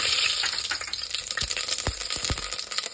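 Mustard seeds and cumin sizzle in three to four spoons of hot oil in a pressure cooker over a low flame, giving a steady frying hiss with scattered sharp pops and crackles.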